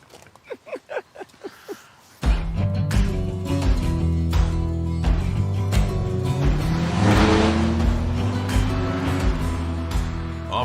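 A car starts and drives on a farm, its engine loud and steady from the start with a rising tone as it accelerates, after a few short sharp knocks at the beginning.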